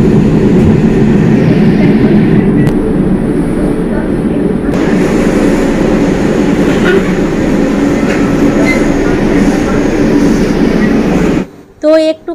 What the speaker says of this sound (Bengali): ওই যে ট্রেনের যে একটা আওয়াজ, সেই আওয়াজটা তোমরাও যাতে পাও